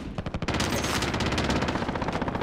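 Sustained automatic gunfire in the Call of Duty Warzone video game, loud and close, a dense stream of rapid shots that barely lets up after a few opening bursts.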